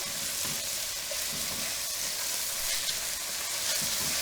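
A spoon works through a stroganoff sauce in a hot pan as mustard is mixed in, giving a steady broad sizzle with soft scraping strokes underneath, close and even throughout.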